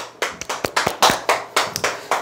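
A small lecture audience at a sales coaching talk claps in distinct, uneven bursts, about a dozen sharp hand claps close by, with no talking over them.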